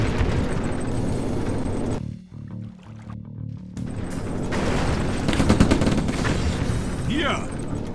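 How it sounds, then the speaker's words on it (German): Artillery shells bursting in a Stalingrad battle game on the German Wehrmacht side: loud, dense booms and crackling blasts, a brief lull, then more heavy explosions rolling close by, with voices under the din. "Artillerie."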